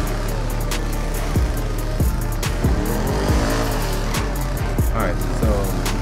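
A 2025 Lamborghini Temerario speeding in GTA, its engine roaring loud and steady with repeated gear shifts and rising revs, with tire noise and a few sharp clicks over the drone.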